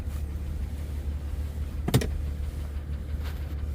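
A 2003 Honda Pilot reverses in snow during a Canadian winter storm, its engine giving a steady, low idle rumble, with one sharp click partway through and no talking.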